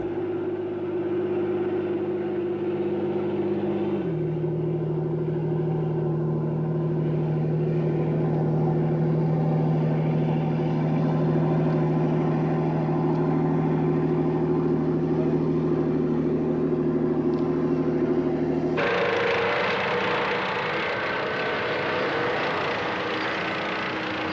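Swedish S-tank amphibious battle tank with a gas turbine engine, swimming through water propelled by its tracks: a continuous, steady engine drone with no voices, dropping in pitch early on and turning noticeably louder and harsher near the end.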